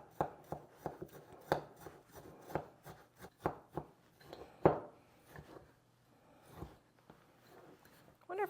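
Graham cracker crumbs are stirred in a small mixing cup, producing irregular scraping and tapping knocks, some sharp and close, spaced unevenly with quiet gaps between.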